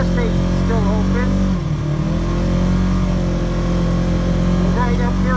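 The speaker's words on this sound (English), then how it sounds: "I'm in four-wheel drive in my side-by-side." RZR side-by-side in four-wheel drive through heavy snow, its engine droning loud and steady with a brief dip in revs partway through, with someone talking over it.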